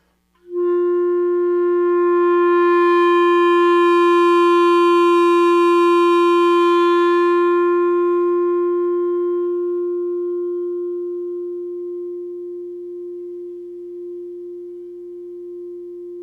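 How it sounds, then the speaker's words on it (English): A single sustained clarinet note swells in loudly and then tapers gradually toward a very soft, hushed pianissimo, played alone with no talking. "It's really fun to play super pianissimo on a clarinet"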